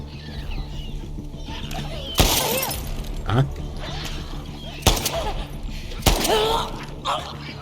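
Gunshots ring out in The Last of Us Part II, three sharp loud blasts spaced a second or more apart, amid game ambience, grunts and a faint voice.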